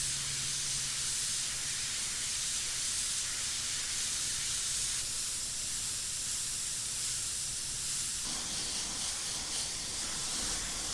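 Airbrush spraying transparent lime-green paint mixed with reducer, a faint steady hiss of air running throughout, shifting slightly in tone near the end.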